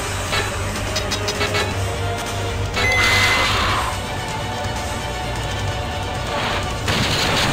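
A gun fires in the Sega Saturn survival-horror game Deep Fear, with loud, repeated shots and crashing impacts layered over a constant droning game background.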